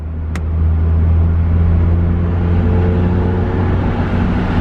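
A Tesla Model 3 driving with the AC out, a loud steady low road rumble and whirring hum heard from inside the cabin, with a brief sharp click near the start.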